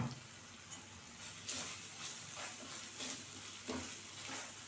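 Masala and a little turmeric for a lady's finger (okra) kuzhambu stir-fried in a pan, giving a steady sizzle broken by several scraping stirs at irregular intervals, close and moderately loud with no talking.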